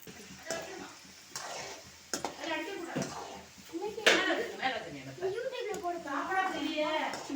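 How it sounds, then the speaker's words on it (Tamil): Ingredients fry in a pan with a soft sizzle and occasional stirring clatter under a person talking throughout. "இதுக்கடுத்து நம்ம இருக்கிறது எல்லாத்தையும் போட்டு நல்லா பொரிக்கணும்."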